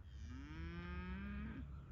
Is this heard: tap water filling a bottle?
no